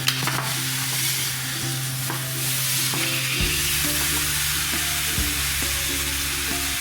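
Brisket searing in a hot pan, a loud, continuous close-up sizzle with occasional sharp spits and crackles and a low hum underneath, unbroken throughout.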